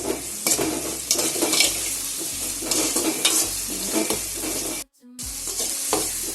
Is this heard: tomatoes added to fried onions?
yes